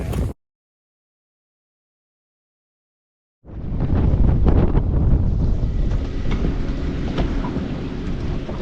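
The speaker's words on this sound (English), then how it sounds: "Man, that wind really just picked up." Strong wind buffeting a microphone while fishing from a boat: after a brief burst and a few seconds of silence, a loud, sustained low roar of gusts with rumbling turbulence continues steadily to the end, no voices.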